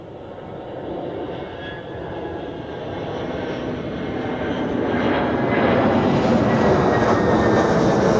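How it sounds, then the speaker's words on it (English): A jet airliner in a new livery lands at Zurich Airport after arriving from Calvi. Its engine roar is loud and steady and swells slowly as the plane draws closer, and no one talks over it. "This one is landing from"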